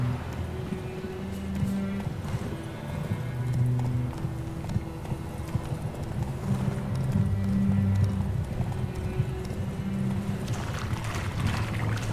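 In Witcher 3, the horse Roach gallops with a steady, rapid clip-clop of hooves heard up close, a brief whinny mixed in, and the running continues without a break.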